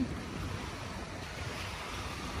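Strong wind blows across the gray-sand shore of Manila Bay near the Manila Yacht Club after steady rain, a continuous loud rushing roar that mixes with surf and microphone buffeting, with no voices.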